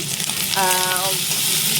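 Ivy gourd (kundri) fries in hot oil with salt, giving a steady, close sizzle, with a brief tonal squeak partway through.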